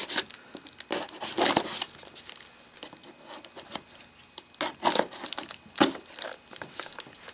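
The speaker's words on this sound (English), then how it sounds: "So I got my trusty cutter here. Let me open this up here and see what's in the box." A utility cutter slices open the cardboard box of a Cideko Air wireless keyboard. Close, repeated scraping and tearing bursts mix with crinkling packaging, with no talking.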